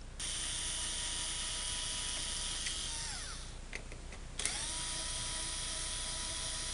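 A small low-torque cordless drill removing screws from a DJ controller's side plate whines at a high, steady pitch, slows and stops briefly, then spins up again close by.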